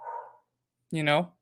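Dog barking indoors, one short muffled yelp followed after a pause by a louder, sharper bark, close by and with nothing else around.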